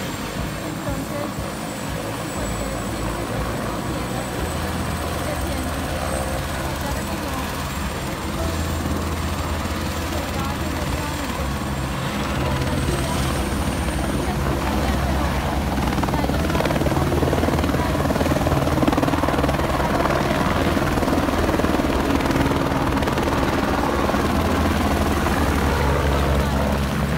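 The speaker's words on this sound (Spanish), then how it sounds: "es un helicóptero de emergencia" An emergency helicopter flies near Everest base camp at about 5,300 metres, its rotor and engine a loud, continuous droning thrum that holds steady and swells slightly stronger partway through.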